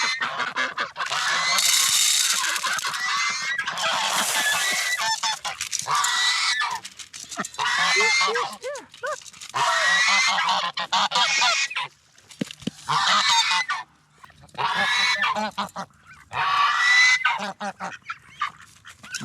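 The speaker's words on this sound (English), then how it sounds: "Geese just love those cucumbers." Farm geese honk loudly and repeatedly while eating cucumbers, bursts of nasal honking close by that come in uneven clusters with short pauses.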